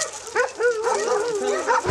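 Several dogs in cages at an animal shelter in Bodrum bark, yip and whimper in quick overlapping bursts, close and fairly loud.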